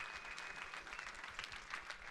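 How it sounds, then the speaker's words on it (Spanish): A church congregation applauds in a brief, steady burst of many hands clapping, heard faintly and at a distance. "Denle un fuerte aplauso al Rey de la Gloria conmigo."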